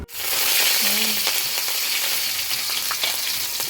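Spice tempering for kadhi, an Indian yogurt curry, crackles and sizzles loudly in hot oil, a continuous frying hiss with small pops and faint stirring noises.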